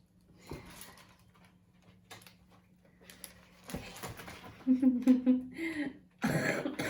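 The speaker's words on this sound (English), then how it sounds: "I'm coughing" A person reading a children's story aloud coughs a few times, with short rough bursts breaking up the steady talk nearby.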